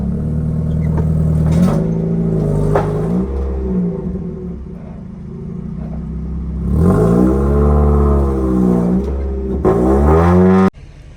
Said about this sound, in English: putting this baby on it